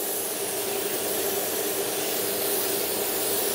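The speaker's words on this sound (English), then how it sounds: "I'll just carry on spraying it here." An airbrush sprays Vallejo red primer straight from the bottle, giving a steady, even hiss of air and paint that runs continuously at moderate level without breaks.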